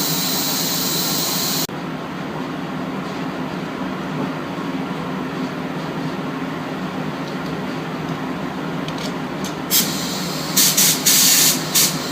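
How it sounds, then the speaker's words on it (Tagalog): Spray gun hissing steadily as clear coat goes onto a car at an auto paint shop, a continuous close, loud spray with a brief pause and a few short bursts near the end. "Now, I'm finished spraying the clear coat."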